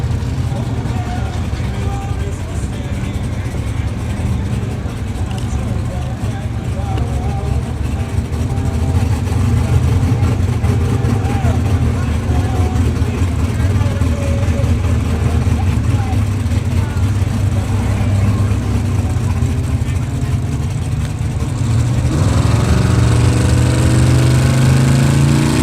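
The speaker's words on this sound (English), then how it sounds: "Solid pair of burnouts there." Two drag cars doing a burnout side by side at a drag racing event, a sustained loud engine roar with a steady, dense rumble that swells sharply louder near the end.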